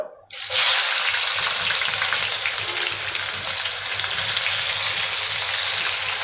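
Onions drop into hot oil with a pinch of asafoetida, in the same oil used to fry paneer for palak paneer. A sudden loud sizzle erupts and holds as a steady crackling hiss, with no talking.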